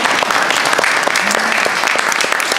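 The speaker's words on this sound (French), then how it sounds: "Vous pouvez l'applaudir." Audience applause at a talk on Cambodia, with steady dense clapping from a room full of listeners, loud and continuous throughout and no voices on top.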